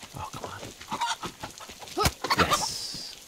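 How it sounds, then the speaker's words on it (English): A rooster in the survival video game DayZ clucks and squawks repeatedly, close and fairly loud, in busy bursts mixed with small handling thumps. "Alright, I'm taking the rooster in my hands."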